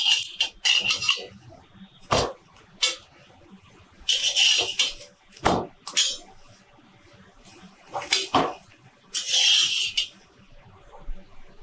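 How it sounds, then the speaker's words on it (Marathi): Bhakri flatbread being pressed and roasted on a pan, with intermittent close scraping and rubbing bursts, a few sharp knocks and clinks in between, and quiet gaps, without talking. "त्याला असं चांगलं उलट फुलट करून दोन वेळा भाजून घ्यायचं अशी दाबून दाबून शेकवायची"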